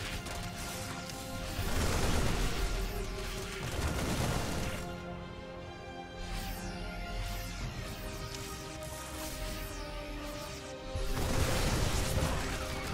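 Widow Mines and Banelings firing during a Terran versus Zerg StarCraft 2 battle: bursts of explosive impacts and rapid weapon fire layered over dense, continuous combat noise, swelling loudest near the start and end.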